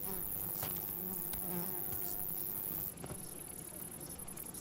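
Wild bees buzzing steadily in a continuous close drone with small wingbeat flickers, alone without speech, the hum dropping slightly in level partway through.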